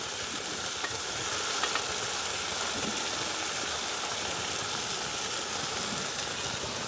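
Chopped leeks fry in a pan with softened tomato and carrot, giving a steady, even sizzle that fills the whole stretch at moderate volume, with no voices.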